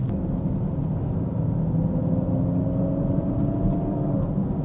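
A Ferrari FF's V12 runs at a steady, smooth idle, a continuous low rumble with a faint whir layered over it, close and even throughout.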